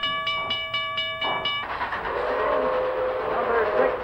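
A model train on a layout rumbles along steadily after a short run of bright, pulsing whistle-like tones, with a faint squeal of wheels underneath.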